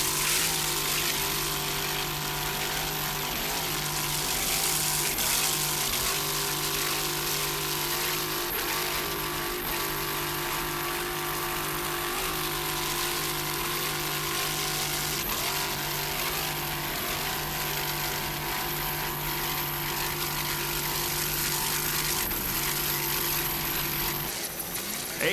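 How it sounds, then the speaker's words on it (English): A Wizard of Oz T Custom Marine inboard powerboat engine drones steadily at the Key West World Championships, a loud continuous roar with a sustained low hum and broadband water and wind noise throughout. "Listen to that engine there"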